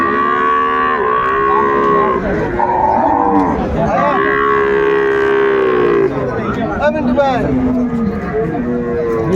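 Cows with calves at the Ambari cattle market moo loudly and repeatedly at close range, long bellowing calls following one another, while voices murmur in the background.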